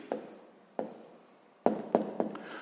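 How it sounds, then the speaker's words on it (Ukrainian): A pen writes an answer by hand during a sixth-grade maths exercise, making a few short scratchy strokes spaced apart, close and fairly quiet with no talk. "Зараз записуємо відповідь."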